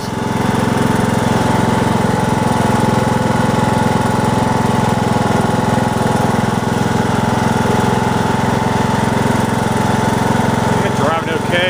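A Toro lawn tractor's engine runs loud and steady as the machine is driven around in first gear, a constant close droning rumble with a faint rattle near the end.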